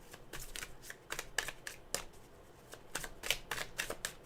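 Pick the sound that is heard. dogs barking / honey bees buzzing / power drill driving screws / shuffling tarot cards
shuffling tarot cards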